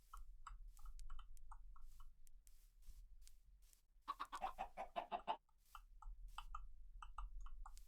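Chickens cluck in Minecraft, a quick burst of several close, rhythmic clucks standing out between soft, scattered game clicks and footsteps.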